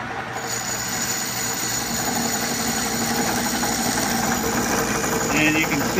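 A Craftsman Atlas metal lathe taking a light cut of about five thousandths, running with a steady loud whir and a faint harsh chattering ring throughout, with no break in the motor noise.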